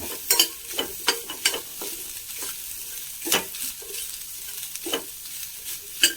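Grated coconut roasting in a spoonful of coconut oil in a pan for a Kerala lunch dish, with soft sizzling under repeated scraping strokes of a spoon stirring it, close and fairly quiet, no talking.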